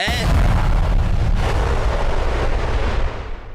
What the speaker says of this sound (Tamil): நல்ல வேலையா அந்த பாம்பு ரொம்ப தூரத்துல போய் வெடிச்சிருச்சுப்பா.